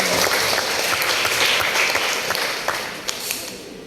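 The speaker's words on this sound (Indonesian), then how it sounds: "Tepuk tangan untuk Bapak." Sustained applause for a speaker at a church service, a crowd clapping in a dense, even wash that holds steady and then gradually thins out, with a few louder individual claps near the end.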